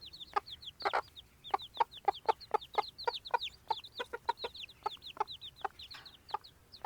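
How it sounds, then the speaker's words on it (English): A hen clucks in her hutch on a farm, a rapid series of short, soft, close clucks repeating steadily for several seconds. "she's making that lovely clucking noise"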